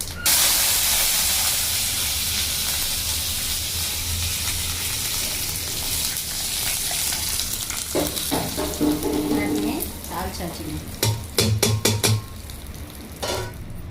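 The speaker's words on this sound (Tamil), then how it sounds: "1 ஸ்பூன் கடுகு உளுத்தம் பருப்பு, கொஞ்சோட நம்ம கருவேப்பிலை போட்டு தாளிச்சிடலாங்க." Mustard seeds, urad dal and curry leaves are tempered in hot oil for a okra buttermilk curry, with a loud hissing sizzle at first that settles, then scattered sharp pops and clatters near the end.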